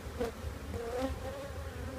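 Honey bees in a trap-out box at a radio tower hum in a dense, close drone, with individual buzzing tones wavering up and down over the continuous hum.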